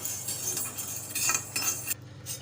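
Sago pearls dry-roasting in a pan for chakli flour, stirred steadily with a spoon that scrapes and rattles against the metal in a continuous, close, moderately loud shuffle.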